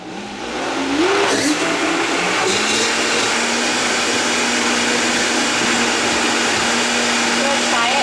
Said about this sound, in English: Is that a Vitamix? Best blender